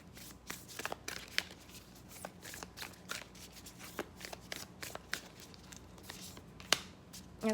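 Moonology Oracle cards being shuffled up close, a rapid run of crisp riffling flicks and slaps that keeps going at a moderate level without speech.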